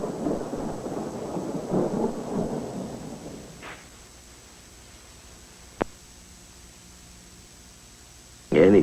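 Nighttime thunderstorm: a loud, broad rumble of thunder rolls for about three seconds and fades into quiet, then a single sharp crack cuts through, and another heavy burst of thunder arrives right at the end.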